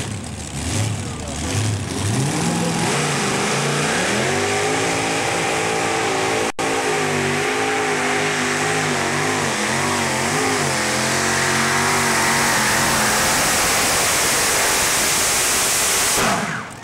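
Modified tractor pulling engines in the 7,000 Modified class at a 1996 Illinois Tractor Pulling Association event in Olney, Illinois, roar loudly and steadily, rising in pitch as they rev through the pull, then dropping away with crowd and announcer noise around them.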